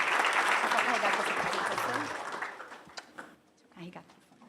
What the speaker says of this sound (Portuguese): Uma salva de palmas para o Mark.